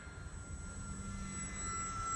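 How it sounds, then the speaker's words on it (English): A Bayer Model 32-inch Vertigo RC model airplane flies overhead with a steady, high-pitched electric motor whine holding a constant tone, gradually growing louder over a continuous rushing hum. "This is such a good flying plane, you know?"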